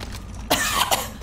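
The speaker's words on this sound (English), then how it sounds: "Coughing included." A character in the video game Cyberpunk 2077 coughs twice in quick succession, close and clear, over a low ambient hum.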